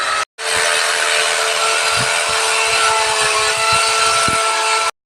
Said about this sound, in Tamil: ட்ரில்லை வந்து யூஸ் பண்ணி நம்மளோட வாலில் வந்து ஹால்ஸ் போட்டுட்டு